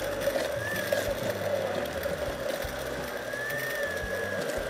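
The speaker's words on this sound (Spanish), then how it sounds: "Procederemos entonces a mixear o a licuar nuestros" Kitchen blender whirring as it blends ingredients for breaded squid, a steady mid-level motor drone with a high whine that rises and falls slightly, heard alone.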